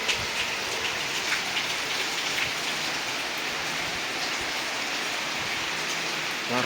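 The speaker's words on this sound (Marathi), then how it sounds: "खूप जोरात पाऊस चालू आहे" Heavy rain pouring down outdoors near a tarpaulin-covered vehicle, a loud, steady dense roar of drops with no pauses.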